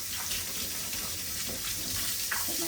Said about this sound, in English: then I'm just going to wash my hands up.